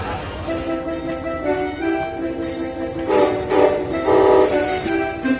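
The Downeaster passenger train rumbles close by while its horn sounds in several loud, sustained blasts, rising toward the end.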